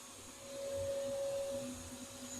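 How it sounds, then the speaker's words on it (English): A small Arm & Hammer vacuum cleaner hums steadily at low volume with a faint motor whine, running alone without voices. "That's the little vacuum there."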